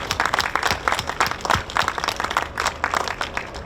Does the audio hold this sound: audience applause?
yes